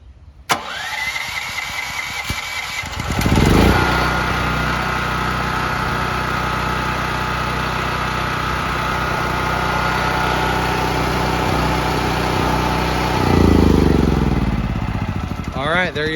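Firman T07573 tri-fuel portable generator running on gasoline, its engine droning steadily with a loud surge near the start and another toward the end, a faint voice briefly audible at the outset.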